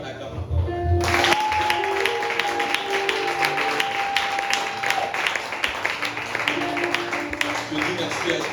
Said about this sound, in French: On acclame encore.